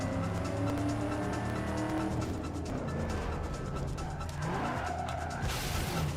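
A car drifting on a handbrake turn in the racing game Need for Speed Underground 2, heard as engine roar and long, continuous tire squeal, loud and close, with a bright screech rising near the end.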